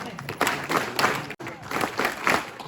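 Crowd clapping at an Independence Day school ceremony at a government inter college in India, a loud, busy burst of applause with a brief break partway through.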